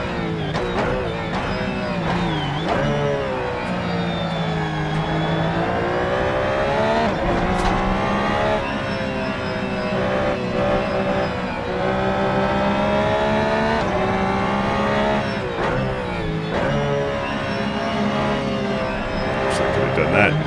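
Corvette C8.R or Porsche RSR race car engines in Assetto Corsa, loud and steady, revving up and down through the gears in a continuous rising and falling whine as a driver talks over it.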